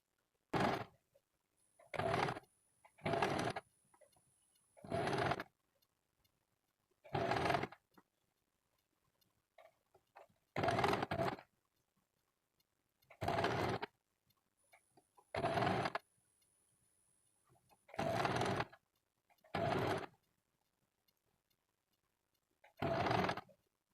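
A sewing machine stitches a blouse puff seam in repeated short bursts of whirring motor sound, each lasting about a second with silent pauses between them, close and clear, and no talking.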